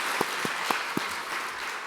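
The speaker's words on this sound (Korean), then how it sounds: "박수 한번 하겠습니다" Applause at a Friday worship service in a Korean church: four distinct, evenly spaced claps in unison ring out over a hall's steady background hiss, then the clapping stops.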